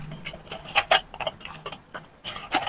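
Mutton bones are stirred with masala and a tablespoon of oil in a pot, giving irregular close clinks and knocks of a spoon against metal and bone in uneven bursts.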